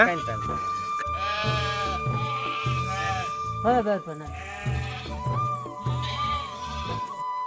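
Several sheep bleat repeatedly, loud and close, their wavering cries overlapping in a steady flock chorus.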